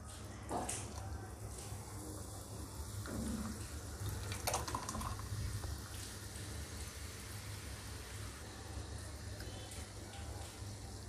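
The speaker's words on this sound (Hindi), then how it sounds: "अब इसमें मैं सोडा डाल रही हूँ" Soda fizzes and splashes as it is poured into a Rooh Afza rose lemon mojito, a soft, continuous bubbling pour close by, with a low hum underneath.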